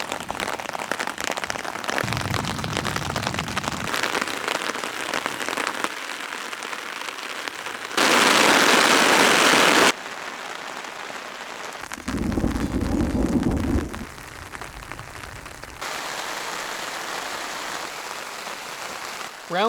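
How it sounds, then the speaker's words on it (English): Rain patters steadily on surfaces during a thunderstorm on a remote canoe trip, a dense hiss that swells in several louder bursts, with low rumbling passages and no voices. "now all of a sudden thunder's coming in, so we're gonna hold up a bit"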